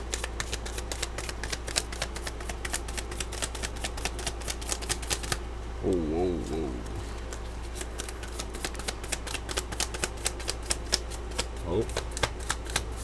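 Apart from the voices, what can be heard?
shuffling cards for a reading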